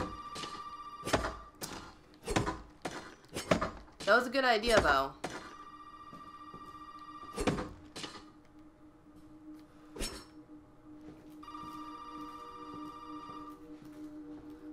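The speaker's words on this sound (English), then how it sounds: "Just don't answer the phone." An old telephone rings repeatedly inside a house in the Resident Evil 7 demo, with steady tonal rings returning after footsteps and thuds, clear and close, while players talk over it.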